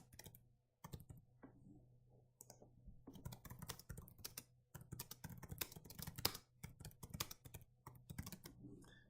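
Computer keyboard typing in irregular bursts of crisp close-up key clicks, separated by short pauses, fairly quiet with no talking over it.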